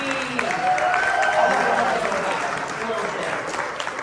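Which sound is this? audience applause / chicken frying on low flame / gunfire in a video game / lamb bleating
audience applause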